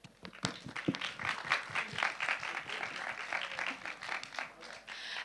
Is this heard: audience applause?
yes